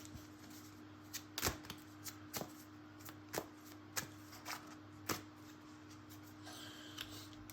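Oracle cards being shuffled and drawn by hand at close range, giving a quiet run of soft flicks and sharp slaps at uneven intervals over a faint steady hum.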